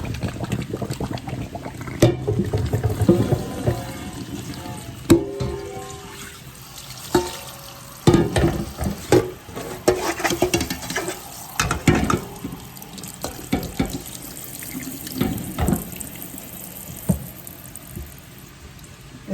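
Tap water running over cooked pasta shells in a sink, a continuous splashing flow punctuated by knocks and clatters of the pot and shells, with no speech.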